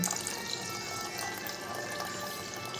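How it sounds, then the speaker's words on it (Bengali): Water pours steadily into a bowl of whisked yogurt to make buttermilk, a continuous close, soft trickling splash with no talk. "পরিমাণ মতো জল দিয়ে দিলাম।"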